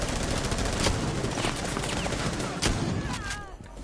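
Rapid gunfire bursts in the Rainbow Six Siege video game, loud and close, with sharp repeated cracks and brief pauses, fitting shotgun and automatic weapon fire in a busy firefight.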